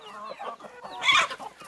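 A flock of chickens on a rural property clucks busily while running in from all sides to be fed, overlapping calls that build to a loud, near burst midway before settling into steady chatter.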